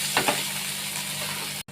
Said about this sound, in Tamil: ஆனால் உண்மையிலே உருளைக்கிழங்கு வறுத்துக்கிட்டு இருக்கேன்